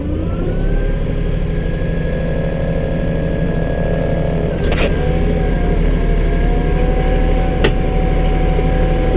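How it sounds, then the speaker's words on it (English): A tractor engine runs steadily and loudly while plowing a food plot, a dense continuous drone with a brief rise in tone as the throttle opens, plus a couple of short mechanical clunks. "Let me give it a little throttle."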